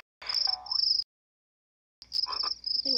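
A frog croaking in a video game: two short bursts of electronic croaks and chirps with a high ringing tone, separated by a second of silence, with no voices.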